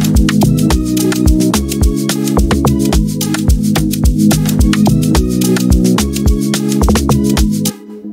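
Amapiano log drum pattern built in FL Studio from a log drum preset, with deep, punchy pitched bass hits in a steady syncopated groove over crisp percussion, loud and continuous until a brief cut near the end.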